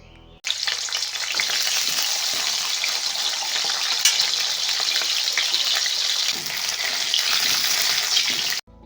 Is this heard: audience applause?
no